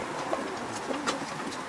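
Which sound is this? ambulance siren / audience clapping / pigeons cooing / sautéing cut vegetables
pigeons cooing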